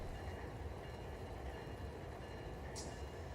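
A freight train coasting along in the Run8 train simulator gives a steady low rumble of rolling cars, broad and continuous, with a brief faint hiss near the end.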